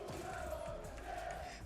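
French fans roaring at a Fortnite FNCS global esports event in 2023, a steady wash of distant crowd cheering and chanting, fairly faint throughout with no clear breaks.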